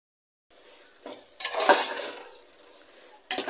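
Onion, tomato and a ground paste of cinnamon, clove, cardamom, ginger and garlic being sautéed for mutton dum biryani, close spoon scrapes and a swelling sizzle after silence, ending in a sharp clink.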